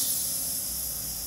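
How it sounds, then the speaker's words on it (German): Pressurised air hisses steadily out of an unscrewed Boxio Wash portable washer canister, a loud, continuous, even rush of bright noise with no voices. "Zum einen muss man hier einfach aufschrauben und den Druck rauslassen. Das hört man auch."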